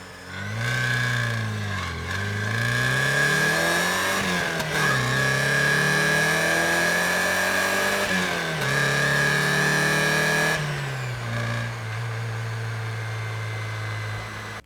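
A 40-year-old Porsche 924S with about 140,000 miles and no catalytic converter accelerates hard from a standstill, its engine note climbing through the gears with brief dips at each shift, loud and close from inside.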